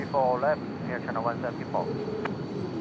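A Boeing 737 MAX rolls out on runway 34 left at Sydney Airport on a windy night, its steady jet roar running beneath someone talking.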